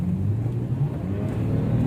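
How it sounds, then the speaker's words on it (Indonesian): A 2006 BMW 5 Series with an automatic gearbox accelerating on a busy road, heard as a steady low engine rumble and drone from inside the cabin, building slightly, with no one talking. "Saya sekali injak gas."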